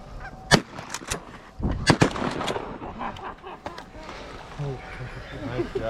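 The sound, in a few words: gunshots fired at geese while duck hunting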